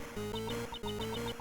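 A cell phone ringtone plays in the Ace Attorney Investigations 2 video game, a repeating electronic melody with a steady rhythmic pattern that loops twice at a constant, fairly loud level with no talking over it.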